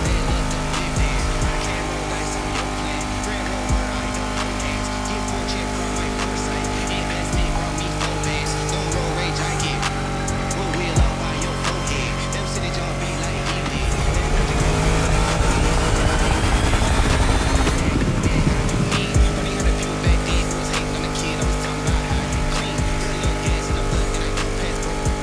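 Donk cars race in the video game The Crew Motorfest, engines roaring loud and sustained with tire squeals and skids, the revving intensifying midway before settling back to a steady drone.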